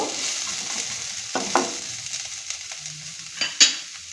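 Chopped onion fries in a pan under a constant sizzle while a spatula stirs it gently, with a few soft scrapes and one sharper knock near the end.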